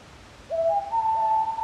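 A squirrel cuckoo (alma de gato) calls beside a river in Iguaçu National Park, giving one clear, drawn-out whistled note that rises in steps and holds steady. It sounds fairly close against a quiet, faintly hissing background.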